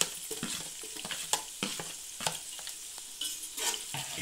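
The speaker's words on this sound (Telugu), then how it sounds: "ఇప్పుడు చీరు పెట్టుకున్న ఈ ఉల్లిపాయ ముక్కలు వేసేద్దాము." Chopped onion pieces fry in an oiled pan with green chillies for wheat rava upma, giving a soft, steady crackling sizzle broken by brisk stirring scrapes.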